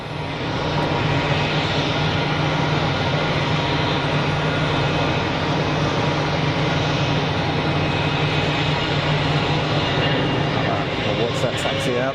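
An airliner departs at Geneva Airport, its loud, continuous jet engine roar filling the whole span at a steady level.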